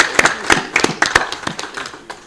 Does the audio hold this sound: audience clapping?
yes